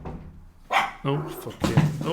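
A dog barks at the front door in a few sharp bursts, close and loud, while a man exclaims over the barking.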